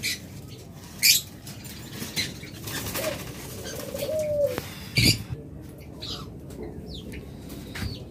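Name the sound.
caged pet birds (lovebird, budgerigar, dove) calling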